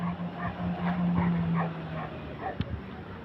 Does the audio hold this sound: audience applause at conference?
no